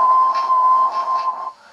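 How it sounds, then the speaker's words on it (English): Human whistle coming through a handheld AM radio receiver, a steady pure tone held for about a second and a half with slight wavering, then cut off abruptly. "Perhaps if I whistle"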